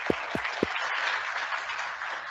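Lecture audience applauding, a faint, continuous patter of hand claps with a few sharper thumps early on, heard from a distance across a room.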